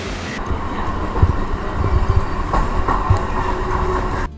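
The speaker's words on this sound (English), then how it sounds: "This special mention is for the local trains." A Mumbai local train runs along the track with a steady rumbling roar and rhythmic clattering of wheels over rail joints, loud and close throughout.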